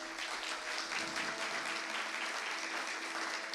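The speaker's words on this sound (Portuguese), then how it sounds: "Vamos recebê-lo com uma salva de palmas." Church congregation applause welcoming a pastor, a dense, steady wash of clapping from a sizeable crowd, even in level and somewhat distant, with no talk over it.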